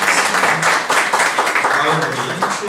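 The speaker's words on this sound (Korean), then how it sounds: "예, 축하의 박수 한번 드리겠습니다." Dense, continuous applause from a congregation at an honorary doctorate ceremony held during a church service, loud and steady with voices mixed in.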